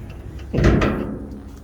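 The hinges of a 1954 Packard Cavalier door, left sitting since 1970, give a short, loud, close groan as the door swings.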